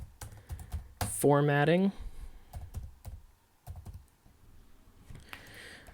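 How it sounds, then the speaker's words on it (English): Fingers type on a computer keyboard in a close, quiet patter of key clicks, broken by a short sung or drawn-out vocal sound and brief talking. "I'm going to type all our words over here"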